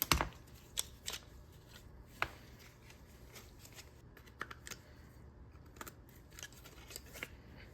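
Scissors snipping through a worn, frayed recoil starter pull rope on a Stihl MS 201 T chainsaw, a series of quiet, close clicks and crisp snips spaced irregularly over a faint background hiss.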